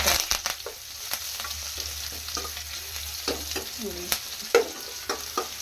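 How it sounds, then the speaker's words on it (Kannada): A tempering of mustard seeds, cumin, chilli, curry leaves and crushed garlic fries in hot oil for a spinach paneer gravy, giving a loud, steady sizzle with a few sharp spatter pops and occasional scraping of a stirring spoon. "ಒಗ್ಗರಣೆ ಇಷ್ಟೇ ಸಾಕು ಬೇರೆ ಏನು ಬೇಡ ಇವಾಗ ಇದು ಎಲ್ಲ ಫ್ರೈ ಆಗಿದೆ"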